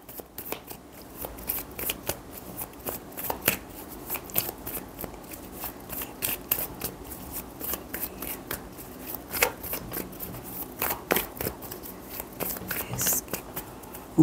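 Tarot cards shuffled by hand in a steady run of crisp, riffling flicks and soft slides, close and fairly loud, continuing throughout with brief sharper snaps.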